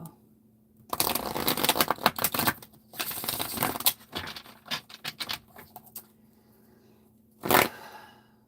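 Dreams of Gaia tarot cards being shuffled in bursts of dense, crisp riffling and slapping, close and fairly loud, with pauses between handfuls and a final short flurry.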